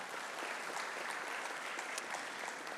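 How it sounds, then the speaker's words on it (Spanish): Sustained applause from an audience at a government civil-service congress panel award presentation, steady and dense clapping throughout, moderately distant in a hall. "Un fuerte aplauso para ella también."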